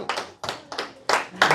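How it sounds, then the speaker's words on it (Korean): A few people clap in a church gathering, five short separate claps at fairly even spacing, close and fairly loud, with no talking over them. "박수!"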